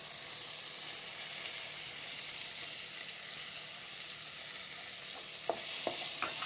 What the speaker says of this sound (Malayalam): ഇതൊക്കെ എണ്ണ കിടന്ന് ഒന്ന് മൂത്ത് വരണം ഇപ്പോൾ സവാള എല്ലാം വാടി വന്നിട്ടുണ്ട്